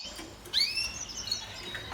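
Mosaic-colored pet birds, including a young chick, give a short burst of high chirps and tweets, fairly faint and close, in an otherwise quiet room.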